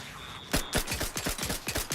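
A levelled-up gun in the video game The Outer Worlds 2 fires a rapid burst of about nine sharp, loud shots in quick, even succession, with no talk over it.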